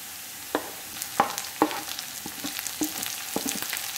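Ginger and chopped green chillies sautéing in a pan for beetroot pickle, a soft, steady sizzle broken by several sharp stirring clicks and scrapes.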